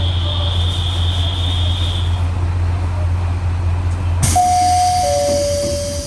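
At Nemuro Station a steady low rumble of an idling diesel train runs throughout, then a sharp door-closing chime sounds near the end, followed by a couple of sustained electronic tones as the train prepares to depart.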